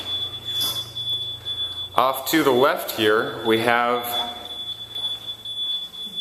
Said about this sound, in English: there's that alarm I was telling you about